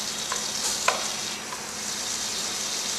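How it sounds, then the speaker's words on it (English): Butter melts in a pan with a bright, steady hiss and a few small pops and clicks, close up and even in loudness, with no talking. "So I'm going to melt my butter."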